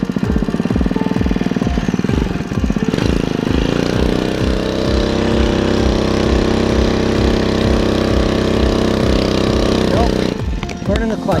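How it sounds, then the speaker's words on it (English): A motor engine labors under strain with a slipping, burning clutch, giving a loud, steady chugging drone with rapid regular knocks. The sound builds, holds, then cuts off near the end. "Nope, burning the clutch."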